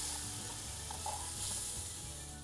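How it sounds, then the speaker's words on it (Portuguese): Minced onion sizzling in 200 grams of butter in a pan as it begins to brown, a quiet steady frying hiss with faint crackles and occasional soft stirring, no voices. "Eu vou usar 200 gramas de manteiga, uma colher de sopa de cebola batida, deixar um pouquinho dourar"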